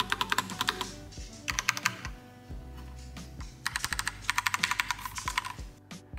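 Typing on an Accto B705 retro wireless typewriter-style mechanical keyboard produces close, crisp clacking bursts of rapid keystrokes with brief pauses between them, alone over a faint hum.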